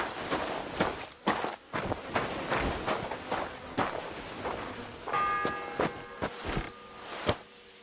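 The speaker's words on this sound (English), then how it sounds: "The first bell." A church bell ringing in Kingdom Come Deliverance 2, a single clear tolling strike with a sustained ringing tail, heard under steady footsteps on the ground.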